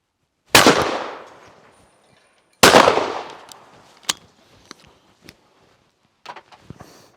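Two loud shotgun blasts from a Caesar Guerini Summit Ascent Allsport over-and-under, fired with 28 gram then 21 gram cartridges, each a sharp crack with a long decaying tail, followed by faint clicks and clatter.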